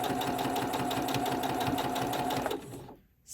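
A sewing machine runs a straight stitch through vintage fabric, its rapid, steady mechanical chatter loud and close for about two and a half seconds before stopping.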